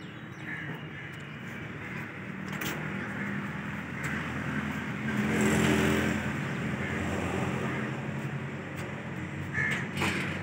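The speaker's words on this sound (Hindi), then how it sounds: "अब ये देख रहे हैं सुन रहे हैं और आवाज़ें गाड़ियों की" Motorcycles and cars pass along a street near a stadium, a continuous traffic hum with one vehicle swelling louder mid-way, and birds calling faintly in the background.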